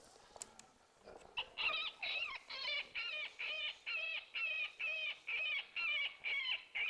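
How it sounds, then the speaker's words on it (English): Wounded woodpecker distress call from a game call recording, a loud series of about a dozen harsh, evenly spaced squealing cries in a regular rhythm, heard alone after a few faint clicks. "It's a wounded woodpecker call."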